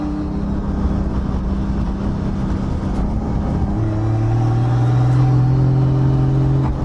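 Turbocharged Toyota 2JZ engine in a Nissan S14 drift car at a track, droning loudly and steadily throughout, its pitch stepping up partway as the revs climb and hold, close and continuous with no talk over it.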